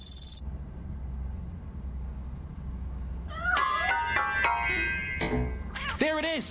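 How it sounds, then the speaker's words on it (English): In RoboCop Rogue City, a cat hiding inside a piano meows several times in quick succession over a low ambient game hum, the cries close and clear, with a louder run of meows near the end. "That cat must be hiding inside."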